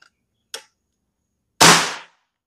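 A single sharp shot from an RTXX double plenum air rifle during a speed test, a loud crisp crack that decays quickly, preceded by a faint click.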